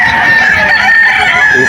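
A young rooster crows loudly and close at a poultry market in Bocaue, Bulacan, one strained, drawn-out call filling the short moment.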